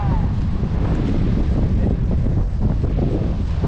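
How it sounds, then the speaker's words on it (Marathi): Strong wind buffets the microphone at Colva Beach in Goa, a loud continuous roar with the wash of sea waves blended underneath and no speech. "कोलवा बीचला पोहोचलोय आणि वारा आणि समुद्राच्या लाटा"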